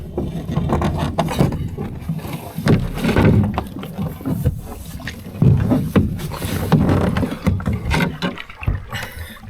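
A canoe paddled solo across a lake in fall, with repeated close paddle strokes and water swishes in a steady rhythm, wooden knocks against the hull, and faint wind behind.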